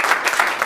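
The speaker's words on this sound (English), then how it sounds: "it would be nice to give them a round of applause" Audience applause for a team after an event, a steady dense clatter of many hands at moderate volume, continuous through the short moment with no talk over it.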